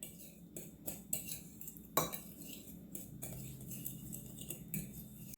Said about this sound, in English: Then I'll add my olive oil to make a paste. Stir this around.